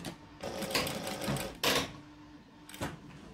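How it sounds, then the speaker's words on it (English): A sewing machine stitching fabric for a retro apron whirs close up in short, uneven bursts, rattling quickly between brief pauses. "And then just stitch over that section again."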